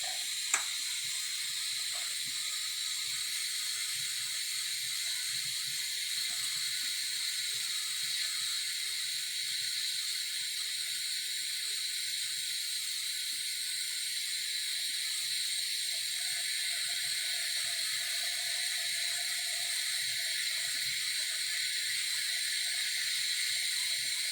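A pressure canner cooking Manhattan clam chowder gives off a steady, continuous bright hiss of steam, unchanging and moderately loud throughout with a faint low rumble beneath.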